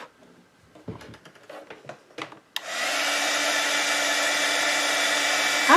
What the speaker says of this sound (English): so now we're going to heat set those.